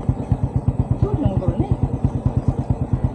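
A motorcycle engine idles close by with a steady, even pulsing beat throughout, and a voice speaks faintly in the background.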